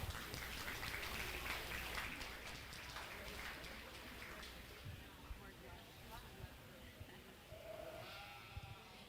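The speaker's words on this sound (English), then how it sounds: "Let's give these guys a round of applause." Quiet, rain-like applause from spectators at a sheep and goat showmanship judging in a livestock ring. The clapping fades as it goes on, with a sheep bleating and voices talking in the background.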